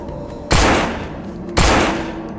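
Two loud, close gunshot blasts from the zombie video game No More Room in Hell, each with a sharp onset and long decaying echo, about a second apart with no talking.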